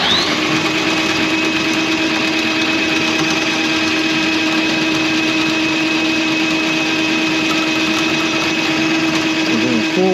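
Powered drain auger feeding cable into a clogged kitchen sink drain, a steady, loud motor drone with a rattling mechanical hum that runs unbroken and close throughout.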